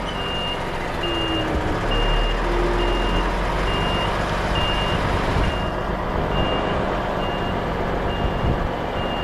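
An HGV articulated truck with a trailer reverses in a tight Manchester street, its reversing alarm beeping in an even, regular rhythm over a loud steady engine rumble, with no talk.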